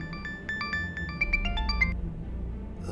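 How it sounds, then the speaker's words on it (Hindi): A phone ringtone plays as repeated calls come in from home at a construction-site flat viewing, a bright melodic electronic tune of quick rising notes lasting about two seconds over low background rumble, then fading. "घर से बार बार फोन आ रहा है"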